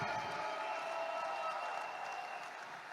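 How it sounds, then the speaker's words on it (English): Audience applause for leaders at a church or motivational gathering, a steady wash of clapping from a crowd lasting a few seconds and fading slightly at the end. "Can we give our Reway leaders a round of applause today?"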